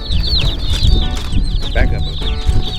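Many baby meat chicks peep in a constant high-pitched chorus in a brooder box, close and busy, over low rumbling background noise.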